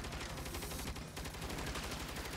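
Rapid, loud bursts of automatic gunfire rattle continuously in a shootout in the video game Saints Row, with dense overlapping shots and no pauses.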